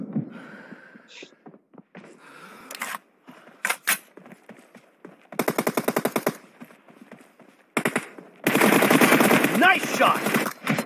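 Rapid automatic gunfire bursts from a team deathmatch shooting video game, loud and close, coming in several clustered volleys, the last one long and dense, with voices chattering between shots.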